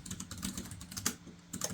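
Fingers type on the keyboard of a DOOGEE T20 tablet in a quiet, quick run of soft, close keystrokes, with a brief pause before the typing resumes.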